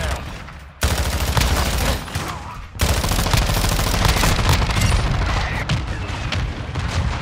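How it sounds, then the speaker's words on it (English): Sustained automatic gunfire from a Call of Duty: Modern Warfare II team deathmatch on the holiday Shipment map, loud and dense, with near-continuous rapid shots, one short break, and explosions blended in. "I'm shooting this gun now"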